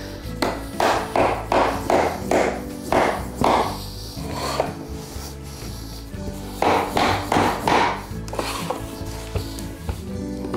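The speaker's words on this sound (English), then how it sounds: "Now we take our hammering block, put your weight on this other piece of wood." Laminate flooring planks are tapped into place with a hammering block, giving a close series of loud, rhythmic wooden knocks in quick bursts separated by short pauses.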